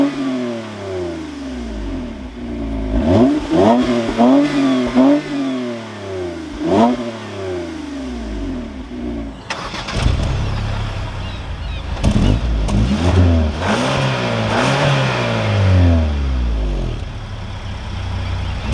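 A 2022 Toyota Camry TRD's naturally aspirated V6 with a torque-converter automatic revs repeatedly, each sweep climbing and falling, loud and near, with a harder, rougher series of revs in the second half.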